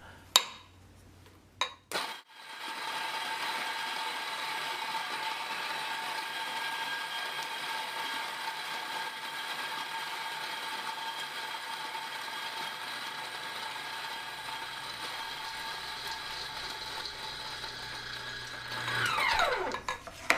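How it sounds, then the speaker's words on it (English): A spouted coffee grinder grinds beans straight into a brew cone, a steady, close whirring grind held evenly for roughly sixteen seconds after a few clicks, then spinning down. "For me, I generally just grind directly into the cone."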